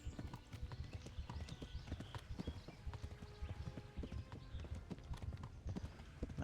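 Horse hooves gallop in steady, rapid clip-clop rhythm in the medieval video game Kingdom Come: Deliverance, close and constant throughout, with no talk.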